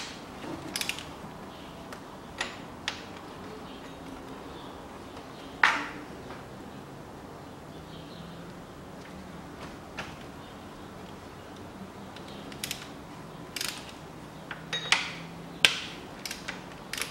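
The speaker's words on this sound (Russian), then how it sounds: "И откручиваем помпу. Помпу нам все равно снимать." Ratchet tool unscrewing water pump bolts on a 2006 Lexus GS300 with a 3GR-FSE engine: scattered sharp metallic clicks and clunks at irregular intervals over a quiet background, close by.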